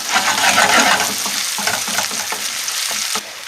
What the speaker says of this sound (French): on ajoute un oignon qu'on a coupé en morceaux et qu'on fait bien rissoler